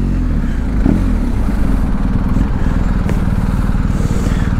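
A Ducati Multistrada motorcycle passes close by, its engine a loud, steady mid-pitched drone with a brief rise as it goes past, with no talking.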